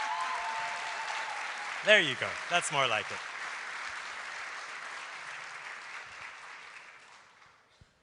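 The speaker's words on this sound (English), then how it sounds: "I'm going to ask for one more proper warm round of applause for our guest" Studio audience applause for a talk show guest fills the room with steady clapping that slowly fades toward the end, while a host speaks briefly over it.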